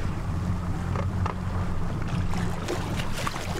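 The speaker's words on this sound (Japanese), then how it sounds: "水上を駆け抜けるバナナボートもあるんです" A banana boat speeds across the sea off Susaki in Kochi Prefecture, Japan, with steady rushing water, a low engine drone and gusty wind buffeting the microphone.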